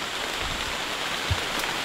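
Steady rain hisses evenly, a dense, close patter with a faint thump near the end.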